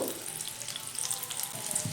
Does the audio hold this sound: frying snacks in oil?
yes